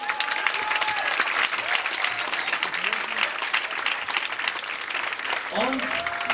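Audience applauding at a school event for lower secondary classes, continuous clapping from a crowd with some voices mixed in, steady and fairly close.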